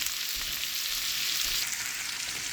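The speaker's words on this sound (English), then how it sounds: "A whole skillet full of potato skins I was going to throw away." Potato skins sizzle and crackle steadily in a skillet full of oil, a continuous bright hiss close up with no talking.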